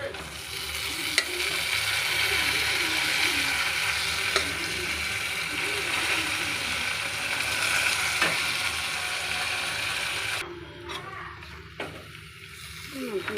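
Boiled mutton sizzles and fries steadily in a pan for a curry, a dense continuous crackle with occasional stirring clinks and scrapes, close and even, easing off near the end.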